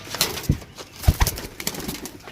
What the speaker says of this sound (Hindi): उड़न वाले जनाब कबूतर लैके आए हैं